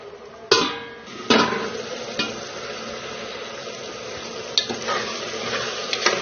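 A covered pot of mutton curry cooks with a steady sizzling hiss, broken by a few sharp clanks and scrapes near the start and end.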